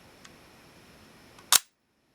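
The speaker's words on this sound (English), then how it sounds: "let's cock that, and we can see this focal plane shutter" Focal plane shutter of a Zorki 3 rangefinder camera fires once, a sharp, close, dry mechanical snap after a quiet pause, followed by silence.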